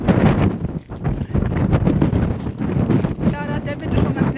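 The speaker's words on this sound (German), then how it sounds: "da ist der Wind schon ganz nett hier" Strong wind buffets the microphone at Nordkapp, North Cape, Norway, a loud continuous roar with gusting swells over a campervan stop, mixed with bits of nearby voices.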